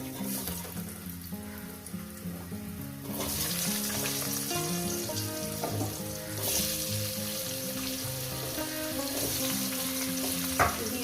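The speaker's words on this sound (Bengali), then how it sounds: "আলুগুলোকে একটু সুন্দর করে লাল লাল করে ভেজে নেব" Potato pieces frying in a pan with cumin seeds for a vegetarian paneer posto dish, a steady, close sizzle that grows louder after a few seconds as stirring continues.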